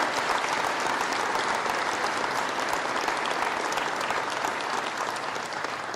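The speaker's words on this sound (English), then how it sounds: "Give another round of applause to Merit Medical for opening up this incredible place for today's important discussion." Audience at a Merit Medical event with Vice President Pence breaks into loud, dense applause, a steady wash of clapping that fills the whole stretch evenly without pause.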